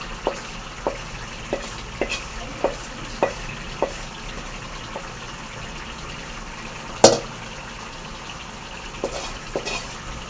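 Masala is stirred into egg gravy frying in a pan: a soft steady sizzle with light, regularly spaced spoon taps against the pan and one louder knock midway, with no talk.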